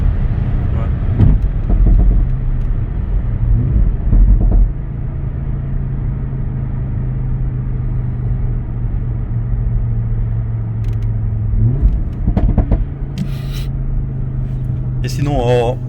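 A 2016 Audi RS3 with a five-cylinder engine rumbles steadily from inside the cabin while driving, a low continuous drone with brief swells as it pulls, with people talking over it throughout.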